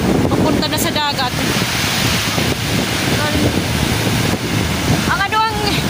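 Seawater and a small stream running over sand toward the sea on a beach, a steady broad rush of surf and flowing water with wind buffeting the microphone throughout, and brief voices at the start and end.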